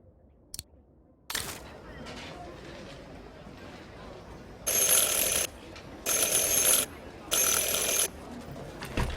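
A door bell in the Syberia 4 video game rung three times, three loud even bursts with short gaps between them, following a quiet stretch of soft room ambience.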